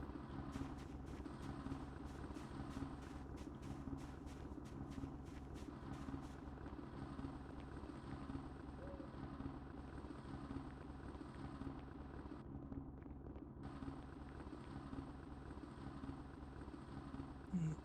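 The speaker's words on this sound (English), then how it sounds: "Particularly that helicopter because it kind of like sounds wrong," Helicopter rotor from the Project Zomboid video game passes overhead with a steady, continuous chopping drone, sustained and fairly loud throughout with no talk.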